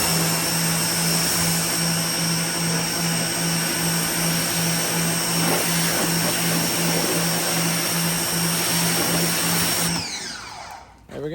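A triple pressure washer setup fitted with a 5.5 nozzle at 1200 PSI sprays water in a loud, steady, continuous roar with a constant motor hum, cutting off abruptly near the end.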